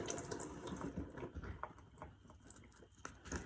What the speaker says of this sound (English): I'm also going to rinse the stems off a little bit